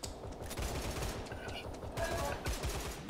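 Gunfire in the tactical shooter game Line of Sight, a helmeted player taking a headshot, comes as dense, steady rapid shots filling the whole stretch, with game sounds layered over it.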